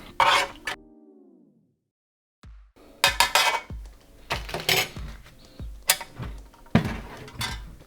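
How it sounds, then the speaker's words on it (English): A utensil stirs a Korean military ration bibimbap mixed with creamer inside its pouch, giving a series of scraping, clinking and crinkling strokes at close range, irregular in rhythm, with a short quiet pause early on. "let's give it a stir"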